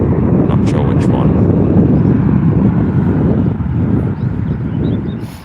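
Jet2 jet engines spooling up at Newcastle Airport, a loud steady broadband roar with strong wind buffeting the microphone throughout.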